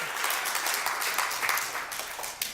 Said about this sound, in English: Let's get a real proper round of applause for Mode 1